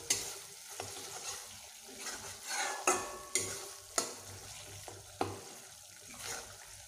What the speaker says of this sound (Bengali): আমি মশলাটিকে বেশ ভালোভাবেই কষিয়ে নিচ্ছি।